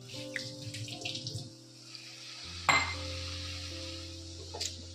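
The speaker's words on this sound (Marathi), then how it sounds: "आता याच्यामध्ये अगदी एक दोन चमचे पाणी घालते मी" Water poured into a pan of pumpkin and jaggery cooking for sweet puris, a brief splash and sizzle around midway, with kitchen clatter and steady hum throughout.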